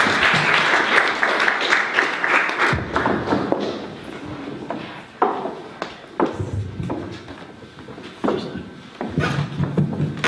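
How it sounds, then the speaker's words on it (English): An audience at a talk on Irish trans history applauds in a burst of clapping that fades out, followed by scattered thumps and shuffling. "Can I get a round of applause for Claire and Danny?"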